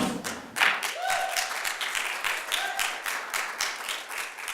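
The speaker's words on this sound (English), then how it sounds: "give them a final round of applause" Dense, lively applause and clapping from a room of people at a college teaching-program celebration, continuous throughout, with a few brief whistle-like tones over it.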